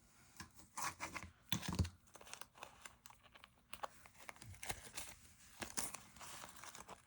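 Washi tape is handled and trimmed on a paper card, heard as soft, close tearing, crinkling and snipping noises in irregular bursts at low volume.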